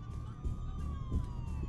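Police car sirens wail in the background of a Dead Island 2 game scene, a faint, distant steady tone slowly sliding down in pitch under low rumbling and brief muffled noises.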